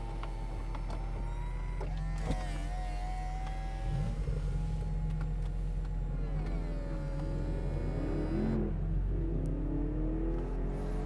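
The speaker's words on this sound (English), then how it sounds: "listen to that engine roar" A BMW Z4 M Roadster engine pulls in fourth gear, its tone rising and falling as it revs over a steady whirring drone, heard from inside the car without talk.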